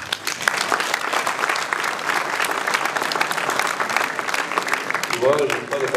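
An audience at a mayor's New Year greetings event in Prats-de-Mollo-la-Preste applauds, dense sustained clapping throughout, with a voice briefly heard near the end.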